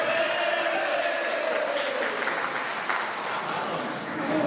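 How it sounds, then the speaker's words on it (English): Audience applause at a Brigade of Gurkhas regimental gathering, a steady, dense wash of clapping that holds at an even level throughout with no break. "some real applause"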